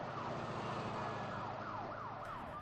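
Ambulance sirens wail in repeated rising and falling sweeps outside a hospital, several vehicles at once, loud and continuous over a steady rumble of traffic.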